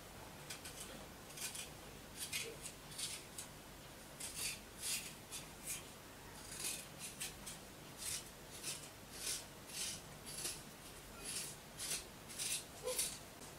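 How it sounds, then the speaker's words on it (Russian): Quiet, repeated scraping strokes in an uneven rhythm, a soft rasping of a spoon against ginger skin, close and faint. "Очень хорошо имбирь чистить ложкой."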